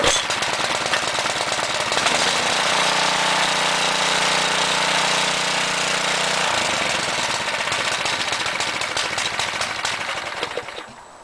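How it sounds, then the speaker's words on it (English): A garden tiller, started after six to eight months in a shed, runs loud and steady with a harsh, rapid engine chatter that holds for about ten seconds before winding down near the end. "this tiller has not been cranked in, oh golly, 6 months, 8 months, and I pulled it out of the shed, pulled on it 3 times, and it cranked."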